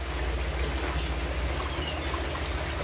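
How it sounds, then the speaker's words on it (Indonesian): Steady trickling and splashing of water from a small waterfall into a pond inside a bird aviary for magpie robins, a continuous close wash of falling water with a low hum beneath. "Oke, tuh ada air terjunnya juga di sana."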